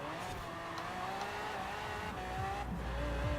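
A 1,500 horsepower V12 AMC Gremlin in Forza Horizon 4, its engine holding a loud, steady high-revving drone with shifting pitch and brief tire squeal, continuous and close.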